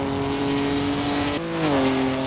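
An Alfa Romeo GT V6 race car engine growls under steady throttle and then shifts pitch down as the revs change, loud and close throughout.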